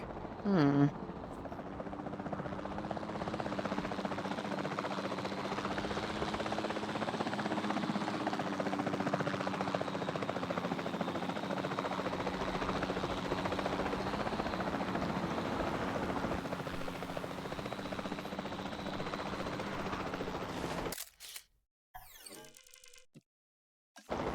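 Helicopter rotors in the video game Jurassic World Evolution 2 thump in a steady, continuous drone close by for a long stretch, then cut off abruptly into near silence.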